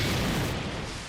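A game-style explosion from Eustace's medium Rat Race attack in the fighting game Granblue Fantasy Versus Rising: a loud, dense, low rumbling burst filling the whole moment, tailing off slightly toward the end with no voices.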